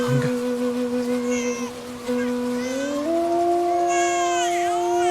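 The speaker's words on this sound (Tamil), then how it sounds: "குழந்தை அழுகுற சத்தம் கேக்குது." A baby wails in long, rising, tonal cries that hold steady and then climb higher, loud and close, with a busy background of other voices and film-scene noise.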